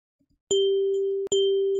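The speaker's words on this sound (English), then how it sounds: "So all this will do now when we press the button is play the audio, which is the bell." A bell sound effect triggered in Unity rings with a sustained, pure metallic tone, struck twice in quick succession, clean and loud against silence.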